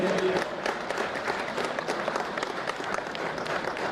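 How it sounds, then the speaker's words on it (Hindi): A crowd claps at a ceremonial presentation of the President's police colour in Palzor Stadium, Gangtok, giving sustained, fairly even applause at moderate loudness with faint voices mixed in. "गड़गड़ाहट तालियों के साथ, गड़गड़ाहट ध्वनियों के साथ उनका सम्मान करें"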